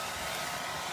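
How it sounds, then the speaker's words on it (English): A hairdryer set to low runs steadily and close by for under a second while drying paint and water on a DIY mercury glass ornament, a continuous broadband whoosh with no talk. "now you want to use your hairdryer for sure"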